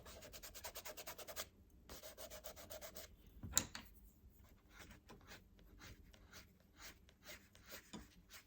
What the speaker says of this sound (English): if it's too dark, just lighten it a bit with your eraser, and you can blend again.